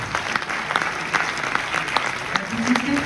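Warm applause from a film-event audience greeting a guest, dense clapping with a few sharper individual claps standing out and a faint murmur of voices underneath.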